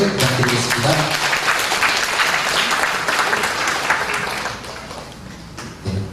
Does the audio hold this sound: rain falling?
no